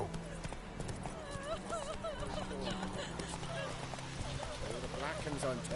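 In The Witcher 3, the player's horse gallops, its hoofbeats clip-clopping in a quick, continuous rhythm while voices talk over it.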